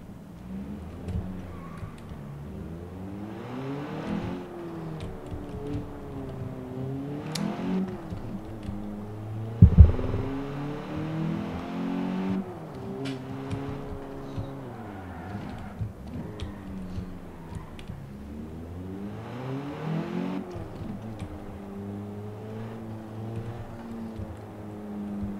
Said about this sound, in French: j'adore le bruit de cette voiture